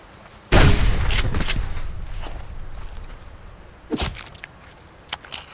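A loud gunshot blast in a video game as a grizzly bear is shot, with a sharp onset that rings and decays over a second or two, then two more shorter, quieter shots follow later.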